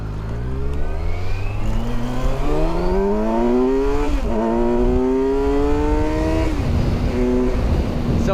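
A Kawasaki Versys 1000 motorcycle accelerates hard in first gear, its engine note climbing steeply in a long rising whine, dipping briefly at a shift point and rising again, loud and close with steady wind rush.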